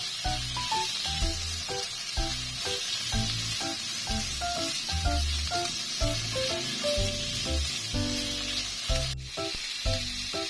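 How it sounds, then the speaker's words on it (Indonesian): Seafood meatballs and tomato stir-frying with oyster sauce give a continuous bright sizzle, heard under steady background music. "Nah, lalu kita tumis sampai semuanya layu ya"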